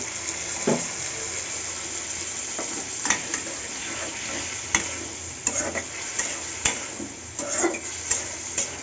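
Pointed gourd dish sautéing with turmeric, chili and salt, a spatula scraping and knocking against the pan in scattered strokes over a continuous low sizzle, close and fairly loud.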